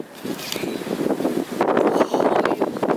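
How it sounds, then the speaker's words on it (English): Strong gusts of wind buffet the microphone outdoors at a homemade fort, a broadband rush that swells and surges throughout, loud and close with no other clear sounds. "that's a strong gust of wind."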